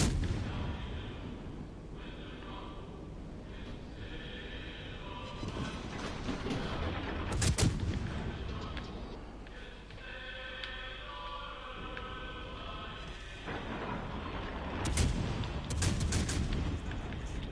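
Heavy booming cannon blasts from a naval battle video game, a few loud isolated shots standing out over a constant rumbling mechanical background.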